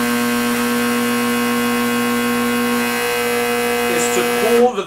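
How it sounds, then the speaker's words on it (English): A vacuum sealer's fan and vacuum pump hum and whir steadily with a droning electric pump tone, ending in a brief rattle as it cuts off. "The one that's in here needs a freaking fan because it pulls so much better of a vacuum."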